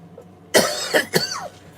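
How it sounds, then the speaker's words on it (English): A few harsh coughs in quick succession, close and loud, after a brief quiet moment. "This cough stinks."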